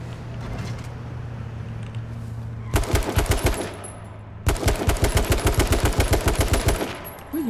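Automatic gunfire in the H1Z1 battle royale game, two long rapid bursts of loud, close shots separated by a short pause, with a low droning hum underneath beforehand.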